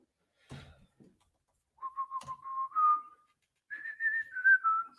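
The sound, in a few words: person whistling a song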